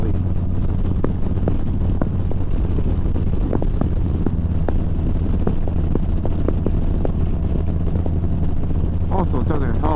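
Strong wind buffets the microphone during a motorcycle ride, a loud, continuous rumbling roar with gusty thumps throughout, and it fully dominates the scene.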